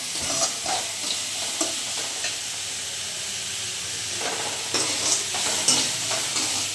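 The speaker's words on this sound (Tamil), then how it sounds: "நல்லா வதங்கட்டும்" Spices and onions sautéing in a pan with cinnamon and cloves for a crab fry, a loud steady sizzle with intermittent stirring scrapes and no talk.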